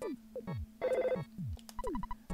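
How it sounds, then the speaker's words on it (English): The phone in the Earthbound video game rings with a bouncy chiptune jingle: descending bleeps over a steady tone, then a brighter buzzing burst and a quick row of repeated beeps. "Oh, phone call."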